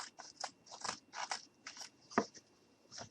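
Scissors snip through craft material for a gnome bed in a quick series of close, crisp cuts with short pauses between them.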